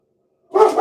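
A single short bark from a small chihuahua-type dog, sharp and close, starting abruptly after a moment of silence and ringing briefly.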